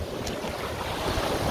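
Sea surf washing steadily onto a wild beach in Bulgaria, a continuous broadband rush of breaking waves with wind buffeting the microphone, close and fairly loud, no voices.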